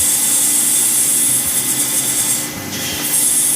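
A skew chisel, used as a scraper, works a cast resin shaving brush handle on a lathe, giving a continuous dry rasping scrape with a brief dip partway through, close and alone.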